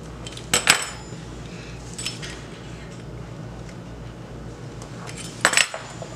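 A knife cuts homemade puff pastry dough in half on a hard surface, giving a few sharp metallic clinks and taps against a quiet background with no talking.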